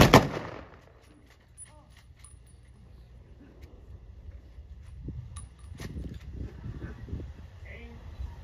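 Ceremonial rifles fire a volley salute at a Wreaths Across America event outdoors: one loud sharp crack at the start, then quiet shuffling, metallic clicks of rifle actions and murmuring voices.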